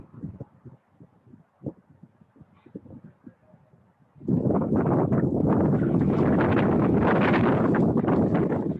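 Quiet, sparse rustling gives way halfway through to loud, continuous wind buffeting the microphone outdoors on a botanical farm, a steady roar that persists to the end.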